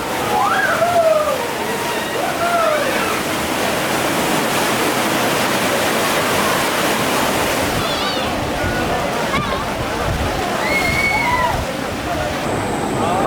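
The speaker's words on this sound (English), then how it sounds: "I've had a go on the rapids." Rushing, sloshing water on a rapids ride at PortAventura World theme park, a steady loud wash of churning water with faint shrieks and voices rising above it.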